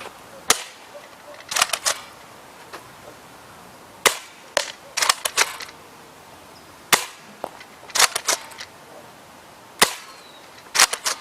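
A Double Eagle M40 MP40 airsoft gun fires at a target about 75 feet away: sharp, close snapping shots, sometimes single and sometimes in quick bursts of two or three, separated by pauses.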